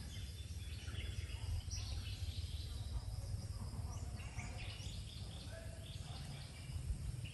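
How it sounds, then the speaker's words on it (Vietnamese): Outdoor ambience at Thien Mu pagoda in Hue, with birds chirping and insects or crickets trilling steadily against a constant low rumble of background noise, no clear voices. "và nghe chim hót"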